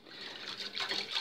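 Very cold water poured for making gelatin desserts, a steady watery gush like filling a container, close and continuous with no talk.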